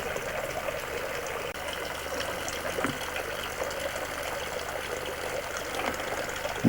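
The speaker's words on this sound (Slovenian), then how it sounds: "voda z lesenim domačim koritom." Water runs steadily into a homemade wooden trough at an old farmstead, a continuous close trickling splash with a faint bump near the end.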